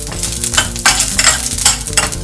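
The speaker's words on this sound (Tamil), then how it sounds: "கடுகு வெடிக்க ஆரம்பித்தோடனே கடலைப்பருப்பு போட்டுடலாம்" Mustard seeds, chana dal and curry leaves sizzle loudly in hot oil for a tempering, a close, dense frying hiss that swells in waves as the pan is stirred, with no voices.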